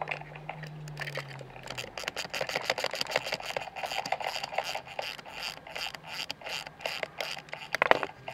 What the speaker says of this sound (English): we just need to take those 2 screws out and that bolt out